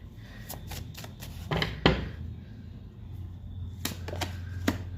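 Tarot cards are shuffled by hand in a quiet room, giving a series of soft, close riffling flicks and light taps, with one sharper snap near the middle and a few crisp flutters toward the end.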